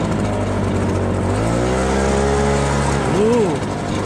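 79cc gas backpack leaf blower (930 CFM) running close by at a loud, steady drone, its pitch shifting slightly partway through as the throttle changes.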